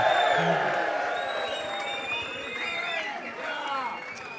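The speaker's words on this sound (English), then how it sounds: "Can we have a cheer, please?" A live studio audience at a rugby Test preview show cheers and whoops for an arriving guest, a steady crowd roar with overlapping voices and some clapping throughout.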